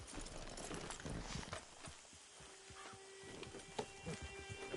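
Horse hooves clip-clopping in the Red Dead Redemption 2 video game, a quiet, steady walking gait set under a background bed of ambient game sound near a camp.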